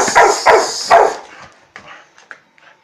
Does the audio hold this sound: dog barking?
yes